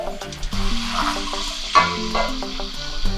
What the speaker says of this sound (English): So now I'm going to stir this a bit.